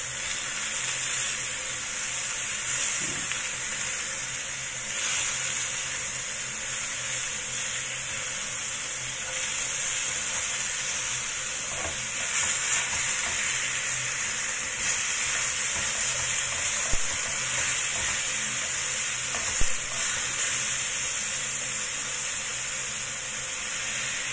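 Chicken pieces fry in a pan with garlic and shallot for chicken afritada, sending out a continuous crackling sizzle and hiss with small stirring bumps now and then, close and with nobody speaking.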